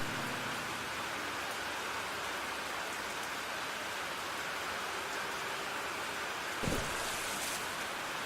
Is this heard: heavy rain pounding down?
yes